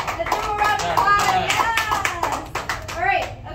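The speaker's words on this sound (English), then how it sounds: "Let's give a round of applause." Audience clapping after a military retirement ceremony oath; lively applause mixed with cheering voices and children speaking, loud and close, continuing throughout.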